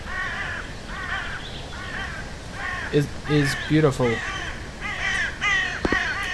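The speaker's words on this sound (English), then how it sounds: "The wonderful sounding birds." Crows caw in the horror video game My Place, several harsh, loud calls in a broken series with a few quick paired caws, while a person talks throughout.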